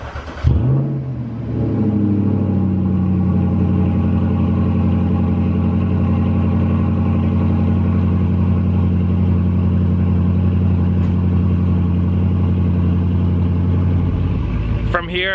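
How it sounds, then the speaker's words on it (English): Jaguar XK car engine cold-starting with a loud crank and catch, then settling into a steady, close, rumbling idle that runs on unbroken until it cuts off near the end. "let's get a cold start on this Jaguar XK"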